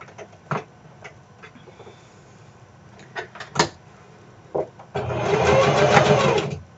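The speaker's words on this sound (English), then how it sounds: "And then I'm just going to stitch it at 3/8 inch." Sewing machine stitches a 3/8-inch seam on a bodice in a burst of rapid, steady whirring near the end, preceded by scattered clicks and handling knocks close by.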